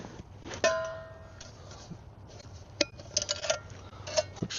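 A metal canteen cook kit for camping is packed away, giving sparse clinks, taps and rattles of metal pieces knocking together at close range, with quiet pauses between.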